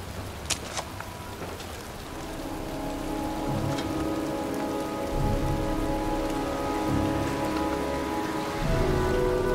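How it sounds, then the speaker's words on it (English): Steady rain pours throughout a scene in the video game Heavy Rain, a dense outdoor hiss with occasional louder patters and drips close by, continuous and fairly loud with no voices. "It's cold. It's raining. I'm standing outside getting soaked."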